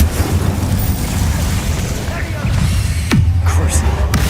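Incendio fire spell cast in Hogwarts Legacy, heard as a dense roaring, crackling burst that swells and then ends in a sharp whoosh, followed by a quieter rumble and scattered pops.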